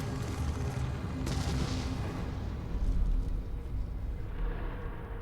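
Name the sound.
gunfire in the video game Resident Evil 7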